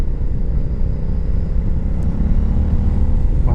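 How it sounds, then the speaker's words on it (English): A Royal Enfield Interceptor 650 motorcycle fitted with aftermarket exhausts rumbles steadily and loudly close by, a deep continuous engine drone with no talk over it. "Wow, it sounds wicked with those exhausts."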